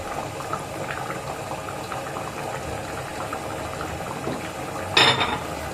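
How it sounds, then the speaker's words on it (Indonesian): Black glutinous rice porridge boils in a pot, a continuous bubbling simmer that stays steady throughout, with a brief louder clatter near the end. "karena udah mendidih dia"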